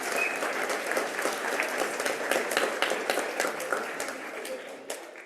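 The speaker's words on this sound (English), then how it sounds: "Give them a round of applause." Warm round of audience applause at an annual Green Schools awards evening, many hands clapping in a dense, steady patter that gradually thins out toward the end.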